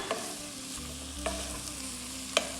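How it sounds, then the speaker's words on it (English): Tomatoes are stirred into a sizzling pot of red bean and tomato soup, with a steady frying hiss and a few spoon clinks against the pot, close up and without talk. "So mix those tomatoes in."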